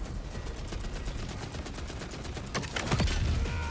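Rapid automatic gunfire from a weapon in an action video game, a steady stream of loud close shots that swells with heavier blasts toward the end.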